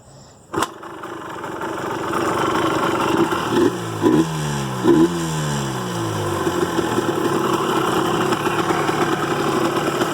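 A 2003 Yamaha Blaster ATV engine catches abruptly after a sharp starter click, then runs loudly and close, with a few quick revs before settling into a steady, rough idle.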